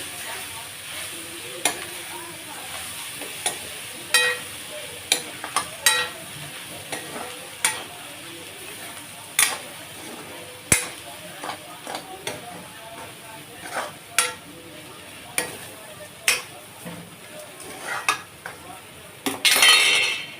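A raw banana podimas with chopped coriander is stirred in a pan, giving a soft background sizzle under repeated scrapes and light metallic clinks of the spoon against the pan.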